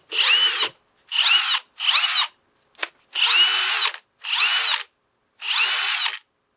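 Kobalt 24V brushless drill motor whirs up in seven short, loud bursts, each a high steady whine separated by pauses, with a brief click between two of them.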